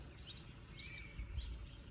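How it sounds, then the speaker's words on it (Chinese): Faint high-pitched chirps from a nest of small birds in a pile of bricks come in short bursts, with a pause in the middle, over low rumbling background noise. "这里面有一窝小鸟"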